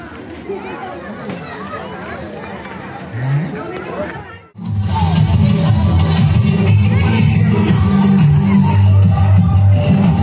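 A large crowd at the Teej festival near Siddheshwar temple in Kalaiya, a dense murmur of many voices and footsteps, growing louder and fuller after a brief dip, with someone talking close by.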